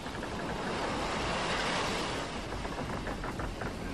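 Wind and breaking waves on the sea make a continuous broad roar with gusty surges, loud and close, with no voices.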